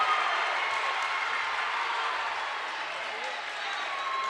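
Crowd at a Miami Trace vs Hillsboro varsity boys basketball playoff game roars after a dunk: a loud, steady wall of cheering that holds for several seconds, with a commentator's voice beneath it.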